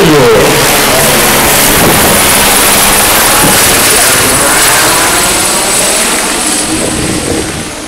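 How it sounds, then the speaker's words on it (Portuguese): Military Police helicopter flying overhead during a platoon parade, its broad rotor and engine roar loud and steady throughout, with faint voices mixed in beneath. "o helicóptero da Polícia Militar Águia está sobrevoando"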